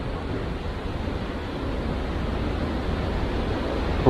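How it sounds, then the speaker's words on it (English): Ocean waves break on a surfing beach at Millook Haven near Bude, Cornwall, a steady broadband roar of surf heard at a distance, fairly even with slight swells. "You can see the surfers trying their luck on those nice waves."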